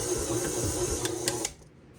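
A stand mixer kneads pizza dough for Neapolitan wood-fired pizza, giving a steady close motor whir with a few faint clicks, then cuts out and leaves near silence.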